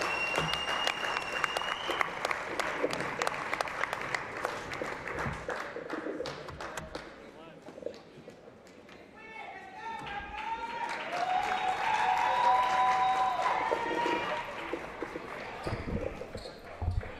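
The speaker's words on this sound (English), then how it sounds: "give them a round of applause" Crowd applause in a basketball gym during a sophomore day ceremony at a college men's game, sustained clapping that fades midway and then swells again, with squeaks and taps and some voices in the background.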